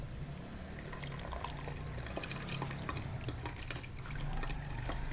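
Pot of jaggery water at a full rolling boil on the stove, a steady close bubbling and simmering with small liquid pops and ticks throughout, no voices.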